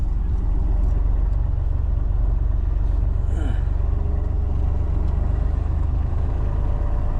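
A Mercedes-Benz 1222AF overland truck crawls along in first gear, its diesel engine giving a steady, loud low rumble with no change in pace.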